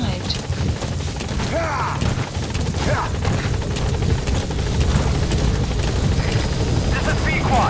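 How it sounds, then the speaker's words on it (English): In Metal Gear Solid V: The Phantom Pain, a support helicopter thrums loudly and continuously as it arrives at the landing zone, with a radio voice speaking over the rotor noise. "Support helicopter has arrived."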